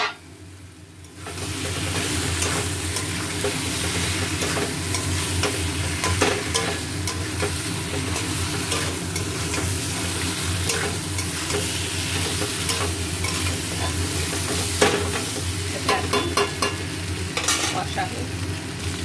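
Mutton frying in a pan, a loud, continuous sizzle that runs unbroken throughout, with frequent scraping and clacking stirring strokes on top and no voices.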